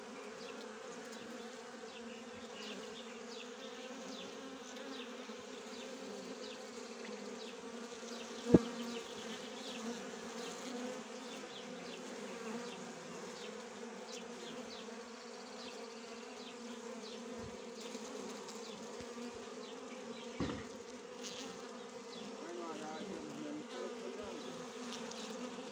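Honeybees swarm around a hive frame hung up for them to cluster on, a dense continuous buzz close by with a couple of brief knocks, no voices.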